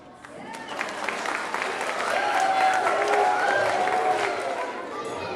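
A school assembly audience claps in a dense, sustained round of applause that swells and holds for several seconds, with voices cheering and calling out among the clapping.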